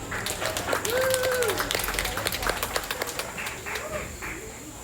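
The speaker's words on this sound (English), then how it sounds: "let's give these kids a real good round of applause out here." A crowd at a 4-H and FFA livestock show applauds outdoors. The clapping is moderately loud and fades toward the end, with brief voices and faint bird calls mixed in.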